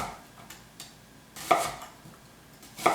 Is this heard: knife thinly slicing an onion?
yes